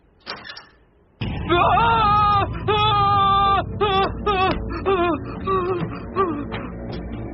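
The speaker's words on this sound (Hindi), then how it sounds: "इतनी जोर से क्यों चिल्ला रहा है?" A man screams loudly in a horror drama. After a brief noise and a short pause, long wavering, high-pitched cries rise and break repeatedly, loud and close.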